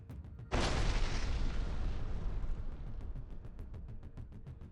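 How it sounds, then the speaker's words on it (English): A single powerful explosion from a drone strike bursts out suddenly, then its deep rumbling roar slowly fades over several seconds. "The drone's impact caused a powerful explosion."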